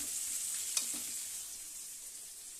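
Okra fries in a pan with a faint, steady hissing sizzle throughout, broken by a brief clink of stirring near the start.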